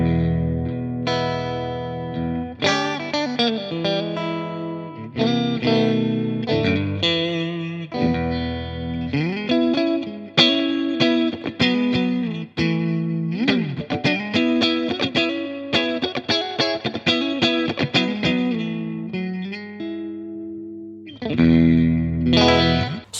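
An electric guitar plays notes and chords through a JPTR FX Kaleidoscope pedal, heavy fuzz-distorted tone with reverb and chorus-like shimmer, sustained tails ringing between phrases.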